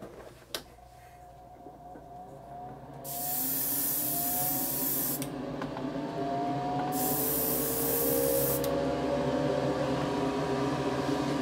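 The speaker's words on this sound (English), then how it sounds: "I'll sit back about a foot from the surface with my airbrush and just mist on a coat of pigment fixer" An airbrush, held about a foot from a model railway surface, mists pigment fixer. It hisses steadily in several long bursts, loud and close, over a low background hum with no speech.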